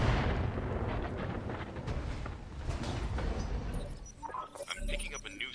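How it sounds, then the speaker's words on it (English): Machine guns on point defense turrets in the RogueTech mech game fire as a dense, continuous rattle of rapid bursts, heavy through the clip and thinning near the end, where sharper metallic clinks appear. "point defense turrets have got machine guns as well"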